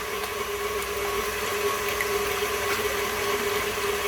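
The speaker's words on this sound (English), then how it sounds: "Pull up my paddle up and let my eggs beat" Stand mixer with a paddle attachment beating four eggs lightly for a carrot cake batter, a steady, continuous motor whir with a faint rattling churn, close and even throughout.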